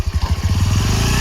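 A motorcycle engine revving close by during a riding lesson, a loud pulsing putter that steadies into a faster, continuous throb.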